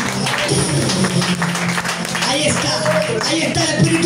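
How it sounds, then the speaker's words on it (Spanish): A church congregation at an evangelistic service applauds, the clapping steady and fairly loud beneath a preacher's voice and crowd noise. "un aplauso al Señor"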